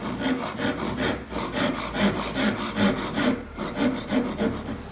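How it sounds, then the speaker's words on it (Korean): Steady rhythmic strokes of a hand saw cutting into wood along marked layout lines for a joinery joint, close and clear with a rasping back-and-forth rhythm and no talk. "톱을 넣는다고 했는데 톱을 어떻게 넣느냐?"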